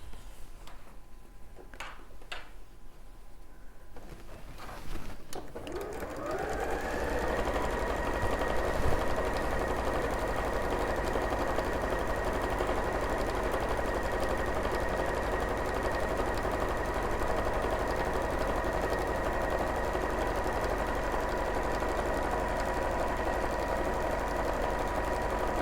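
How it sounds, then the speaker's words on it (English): A sewing machine stitches across a quilt's bottom seam to join two edges, first a few light clicks, then a steady, fast, even mechanical whirr running on without a break, close by with no talk. "we're going to just stitch across this bottom seam to join the two edges together"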